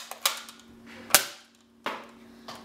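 A modified Tek 4 toy dart blaster firing, giving several sharp snapping clicks and pops spaced unevenly, close and fairly loud over a faint background hum.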